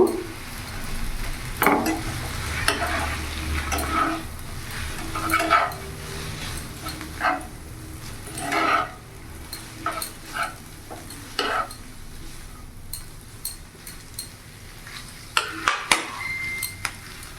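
Tomato sauce mixture stirred in a pan for a Chinese-style singara filling, with repeated scraping strokes and light clinks of a utensil against the pan over a soft sizzle, close and fairly quiet, no talking.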